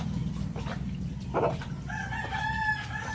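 A rooster crows loudly nearby, its drawn-out call preceded by a few short clucks over a low background hum.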